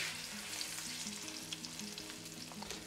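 A floured, egg-dipped chicken cutlet sizzles in a skillet for chicken francese, a soft steady crackle of hot oil heard up close and fairly quiet, with light pops throughout and a faint background hum.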